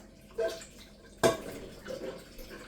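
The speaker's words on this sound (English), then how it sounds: "Make sure you wash your pot good enough." Water splashes in a cooking pot being washed out, with a few brief sloshes and one sharper splash amid quiet drips, soft and close.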